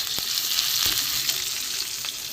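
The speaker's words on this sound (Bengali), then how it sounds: "রসুন কুচিটা আমি এই পেঁয়াজের সাথেই ভেজে নেবো" Chopped garlic fries with onion in a pan, a close, steady hiss of sizzling oil broken by a couple of light stirring clicks, with no voices.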